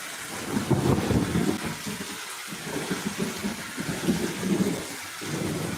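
Heavy rain pours steadily on a sheet roof at a goat farm, with low rumbling thunder rolling underneath, surging and easing in waves; no one speaks.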